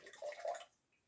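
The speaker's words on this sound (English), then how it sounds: "This is 4 times I've been rinsing the sponge, and still water is a bit murky." Water splashes and gurgles briefly as a sponge is rinsed in a container of murky water, a short close wet burst that fades to quiet.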